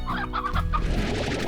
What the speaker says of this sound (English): Oh, there's a hen.